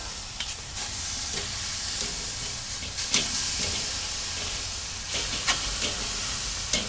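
Chicken breasts sear on a grill fitted with grill grates, giving a steady close hiss with a few brief scraping clicks and no talking.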